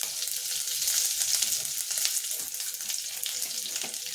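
Mustard seeds, cumin and curry leaves sizzle in hot oil, a loud, continuous crackling hiss with tiny pops throughout and no voices.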